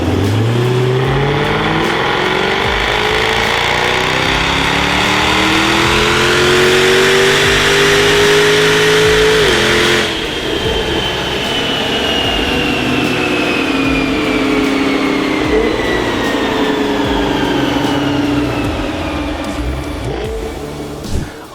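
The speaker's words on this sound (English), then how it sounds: "it's time to get this F-Type strapped back onto our dyno to find out exactly what she runs" Tuned Jaguar F-Type with Predator upgrades revving hard on a dyno, its loud engine note climbing through the gears in rising sweeps, then dropping back and pulling up again, close and alone.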